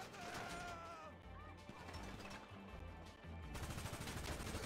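Gunfire during a bank heist in the video game GTA 5 comes as rapid bursts of shots and crashing impacts, loud and dense, with the heaviest volley near the end.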